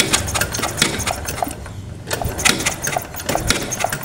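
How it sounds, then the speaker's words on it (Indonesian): Kick-starting a Honda Supra 125 motorcycle engine during an ignition check: dense, fast mechanical clatter fills the whole span at close range, with a short dip near the middle before the churning resumes, and no talk. "sekarang akan saya engkol."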